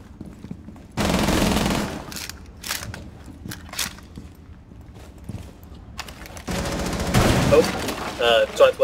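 Gunfire in the tactical shooter Rainbow Six Siege on the Kanal map during a team deathmatch: loud rapid bursts from about one to two seconds and again near the end, with players' voices talking over the quieter stretch between.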